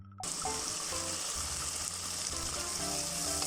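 Food sizzles as it is sautéed in bagoong alamang shrimp paste on a rustic mountain stove, a steady close hiss of frying with light clinks of stirring over it.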